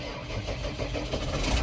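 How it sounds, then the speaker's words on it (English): A tractor engine turns over and catches, a dense rumbling churn that stays steady and close for a brief moment. "Let's hope this tractor starts."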